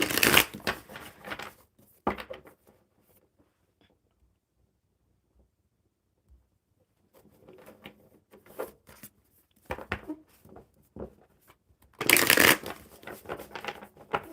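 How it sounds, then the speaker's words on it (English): Playing cards being shuffled up close in several bursts of riffling and flicking, separated by quiet pauses, ending in a loud final riffle. "One more good shuffle, and we'll see what the cards say about Tony."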